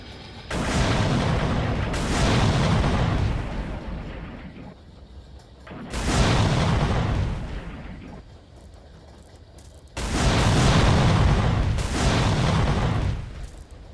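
Three loud crashing booms from a train crash in Roblox, each a roaring burst lasting a couple of seconds before fading, separated by quieter rumbling gaps.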